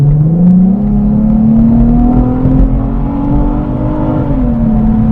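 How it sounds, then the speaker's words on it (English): A Nissan Stagea 280bhp family wagon accelerates hard on the road, its engine revving steadily higher with a loud, close whirring drone that rises in pitch over several seconds before a brief dip as it shifts. "once you actually put your foot down, the character of this car changes entirely"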